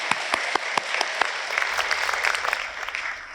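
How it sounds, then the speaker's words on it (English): Audience at a university graduation ceremony breaks into applause, starting with a few sharp individual claps that quickly swell into dense, sustained clapping from the hall. "give him a round of applause"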